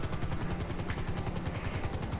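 Helicopter in GTA 5 keeps up a steady, close rotor thump with a low pulsing chop and a constant engine whine, loud and alone without any talk.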